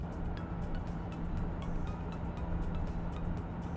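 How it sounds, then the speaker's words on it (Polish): Mini R50 hatchback driving at speed, its exhaust giving a steady low burble under continuous road and wind noise, with faint intermittent ticks and no talking. "ten wydech, który sobie ładnie pomrykuje w miniaku"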